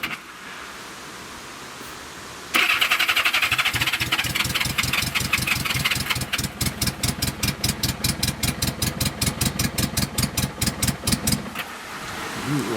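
A Honda Goldwing motorcycle engine with newly mounted exhaust pipes cranks briefly, catches and settles into a steady, fairly quiet idle with an even pulsing rhythm, heard up close.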